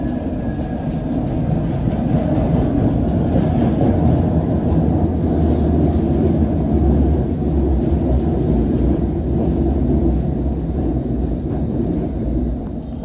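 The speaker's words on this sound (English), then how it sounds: "A not in service district line train." A not-in-service London Underground District line train rumbles steadily past at close range, a loud continuous roar with faint rattling and a brief high whine, no voices.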